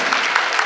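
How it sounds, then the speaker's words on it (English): Brief burst of clapping from a concert audience, many hands patting together in a dense, even wash with small peaks. "Clap your hands."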